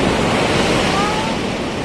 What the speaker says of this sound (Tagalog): Yun o, laking alon o.